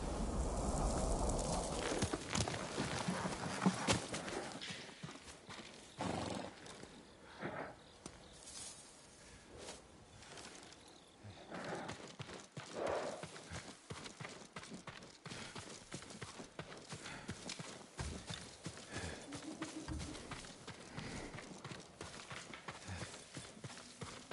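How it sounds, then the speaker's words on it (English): Horse hooves clip-clop at a steady walking pace in Ghost of Tsushima Director's Cut on PS5, mixed into a busy, rustling game soundscape at moderate volume. "Yuriko's horse. She can't be far."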